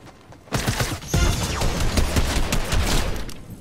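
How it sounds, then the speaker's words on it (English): Rapid video game gunfire bursting in suddenly after a quiet start, a dense, loud stream of shots rattling continuously to the end. "I'm getting shot at."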